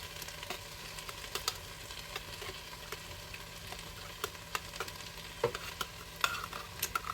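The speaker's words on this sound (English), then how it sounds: "Now in with our tin of tomatoes." Tinned tomatoes go into a soup pot in a Ninja Speedi and are broken up with a utensil, giving soft, quiet scraping and stirring taps over a faint steady hum.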